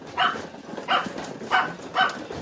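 A dog barks four times in an even rhythm, short sharp yaps close by over a low background murmur.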